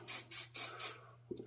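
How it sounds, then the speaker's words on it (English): Four quick spritzes of Aqua Net Extra Super Hold Professional Unscented hairspray, sprayed on a wire tree armature. The hissing bursts come close together and evenly spaced, and a faint handling clatter follows. "Aquanet Extra Super Hold Professional Unscented, very important hairspray. So let me give this a few spritzes."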